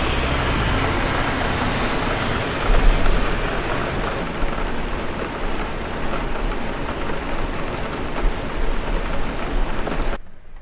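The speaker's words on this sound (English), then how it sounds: "Can you guys hear the rain?" Steady rain falls outside, producing a dense, even hiss that continues throughout, with a slight swell partway through before it cuts off at the end.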